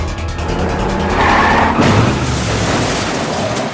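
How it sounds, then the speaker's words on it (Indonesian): A film car crash as a car tumbles down a hillside: loud, dense roaring noise with a heavier impact burst in the middle, continuing as rough crunching rumble before cutting off abruptly. "kecelakaan kedua terjadi dan membuat mobil Dongsul menggelinding menuruni bukit"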